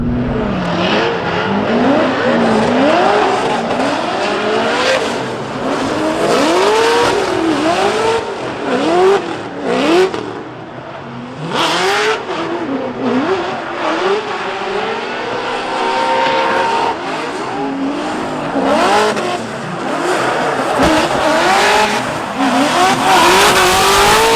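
BMW E36 drift car at a Formula Drift event, its engine revving hard and rising and falling through repeated wails, with tire squeal and crowd-level track ambience, loud and continuous.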